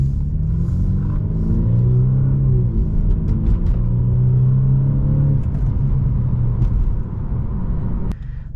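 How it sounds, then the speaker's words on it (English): A 2014 BMW 228i engine rumbles and revs steadily at close range, its tone rising and falling over several seconds before easing off near the end, with no voices. "this is my 2014 BMW 228i, and it is a fucking ruckus"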